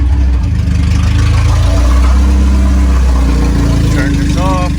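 Honda Civic EF car engine running close by, a loud steady mechanical hum with shifting tone that suggests revving after starting, with a person talking over it.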